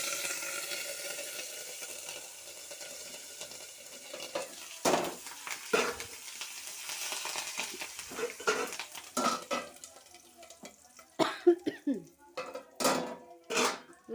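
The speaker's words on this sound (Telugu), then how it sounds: "కరివేపాకు ఉందిగా, కరివేపాకు వేసుకుంటున్నా." Curry leaves dropped into hot oil in a pot for grated mango pickle, with close clattering of a spoon on metal and sharp bursts of sizzle. Quiet stretches come first, then stirring knocks grow louder and busier.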